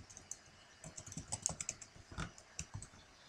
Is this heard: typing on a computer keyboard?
yes